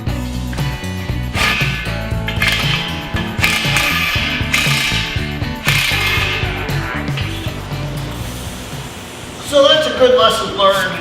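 A socket wrench ratchets steadily as bolts are snugged down on a steel shop safety railing, a close, busy mechanical clicking and clanking with workshop clatter throughout.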